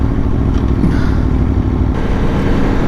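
A 2021 Aprilia Tuono V4 motorcycle engine runs at a steady idle, a loud, dense, continuous rumble heard up close with no voices over it.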